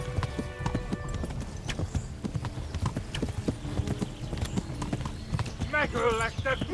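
Horse hooves clip-clop rapidly in a steady galloping rhythm in the video game Kingdom Come: Deliverance, with a voice speaking over them and a brief whinny-like cry near the end.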